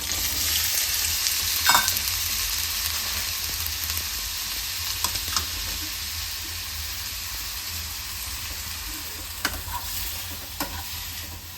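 Eggplant pieces fry in hot oil with a steady, close sizzle and hiss, broken by a few sharp stirring clinks and scrapes; no one speaks.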